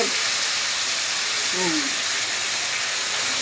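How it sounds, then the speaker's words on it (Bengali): Pangas fish fries in hot oil as a loud, steady, broadband sizzle throughout, with a brief faint voice in the middle. "এপিট ওপিট করে মাছটাকে আমি ভেজে নেব"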